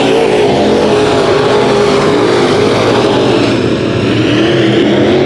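Dirt track race cars roaring through a heat race at Kern County Raceway, a loud, dense wall of engine noise with pitch sweeping as cars power down the straight.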